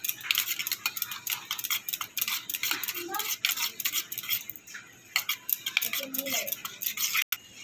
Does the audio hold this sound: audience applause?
no